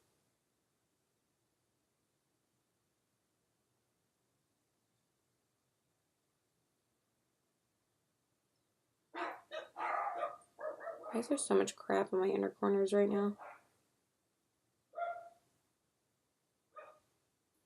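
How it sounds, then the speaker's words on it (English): Dogs barking in the morning, a burst of loud, close, overlapping barks and yips lasting several seconds, then two short isolated barks after pauses, with a voice talking briefly over them. "Sorry for my dogs barking. They love to bark in the morning."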